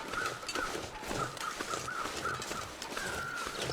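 Crows in The Long Dark caw near a dead wolf, a series of harsh repeated calls at a moderate distance over a windy, rushing background.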